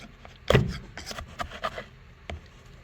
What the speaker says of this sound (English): Just get in there with a screwdriver and manage that carpet